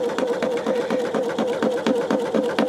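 An embroidery sewing machine running a placement stitch on a greeting card with a peel-and-stick stabilizer, a steady fast needle chatter with a constant motor hum, close and continuous.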